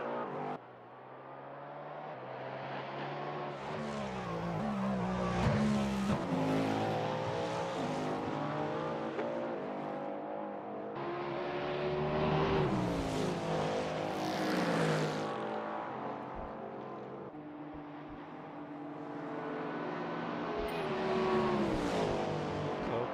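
Cadillac race car engine in Assetto Corsa during an endurance race at Spa, revving hard through rising and falling gear shifts, loud and continuous with no talk.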